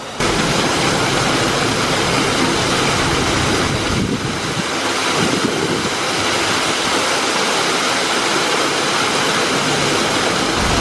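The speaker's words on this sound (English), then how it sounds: "And I love this waterfall behind us." Constant rushing water pours down a waterfall at a Gilligan's Island mini golf course in Myrtle Beach, a steady, loud, broadband roar close to the listener with no voices.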